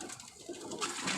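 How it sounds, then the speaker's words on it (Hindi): Pigeons coo softly at a distance in a loft, faint low murmuring calls over a hissy background. "देखें, ये कबूतर आप देख रहे हैं"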